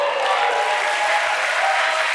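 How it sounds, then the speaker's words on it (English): Church audience applauding during a sermon by Tim Storey, a dense, even wash of many hands clapping at steady loudness, no clear speech. "Come on, keep on clapping."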